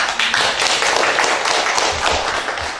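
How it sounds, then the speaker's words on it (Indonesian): A school class applauds together, with dense, continuous hand clapping close by for a few seconds and no talk over it. "Kita kasih tepuk tangan."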